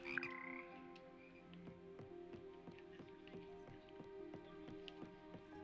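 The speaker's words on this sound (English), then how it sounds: "Yeah, that's their singing. It's just normal frog noises." Frogs croak in a rhythmic, repeating chorus of ribbed calls in the Hogwarts Legacy video game, steady and fairly faint throughout with no talking.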